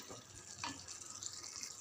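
Water trickles and splashes into a pot of chicken curry, a soft, brief pour heard close up with no talk.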